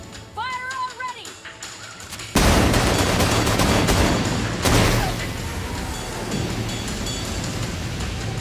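Gunfire sound effects in a toy battle with G.I. Joe Classified S.N.A.K.E. battle armor and action figures: loud, dense volleys like rapid automatic fire and booms that run continuously, following a short spoken line.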